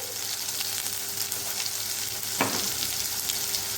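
Spices stirred into sizzling sprouted moong and matki with tomatoes in a pan, a steady close frying hiss with one sharp scrape of the spoon partway through, no voices.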